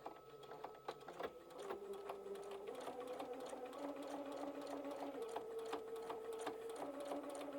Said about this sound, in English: I'm just going to line the needle up on this line, and we're going to sew straight down